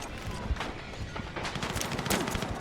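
Rapid gunfire in the video game Battlefield crackles in a steady, dense burst of overlapping shots throughout, fairly loud and continuous.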